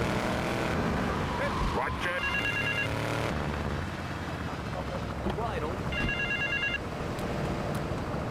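A telephone rings in Grand Theft Auto 3, two bursts of electronic ringing over game car and engine noise, with someone talking through much of it.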